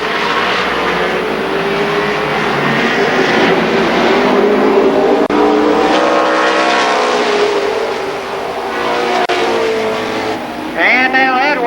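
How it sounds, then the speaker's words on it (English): Race cars at Columbus Motor Speedway during the Firecracker Championship, a loud continuous roar of engines with rising and falling pitches as cars pass, a commentator talking over it. "Skip Thornton the leader in car number 86."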